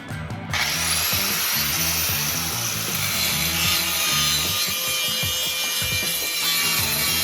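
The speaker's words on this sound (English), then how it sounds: "Grind it some more." A power grinder strips rust from a Model A Ford subrail in a steady, loud, continuous whine with a rough, pulsing grinding texture right up close, no voices.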